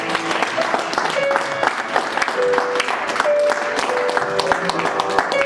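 A church congregation claps and cheers loudly, a dense, steady applause with scattered shouts, while music tones ring through and voices mingle in the crowd.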